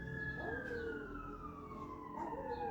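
Police patrol car sirens wailing on a city street in Mexico, a steady rising and falling tone that grows and fades as the vehicles pass, moderately distant over traffic rumble.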